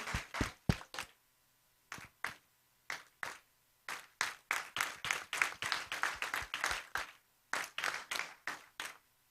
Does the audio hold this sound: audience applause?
yes